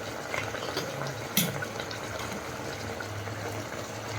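Hilsa fish curry with eggplant simmering under a lid on a medium flame, a continuous low bubbling with one brief clink near the start.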